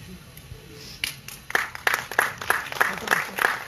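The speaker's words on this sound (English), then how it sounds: "Keep the claps coming, ladies and gentlemen." An audience applauds at an IFFI film festival ceremony marked by a postage stamp release, with scattered claps at first swelling into steady, moderately distant applause, and a voice faintly underneath.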